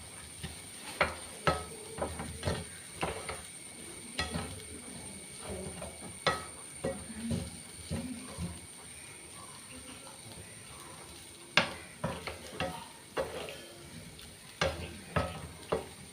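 Raw banana thoran stirred in a pan, a run of sharp spoon scrapes and knocks against the metal in irregular bursts over a faint, steady sizzle, close by, with occasional brief pauses.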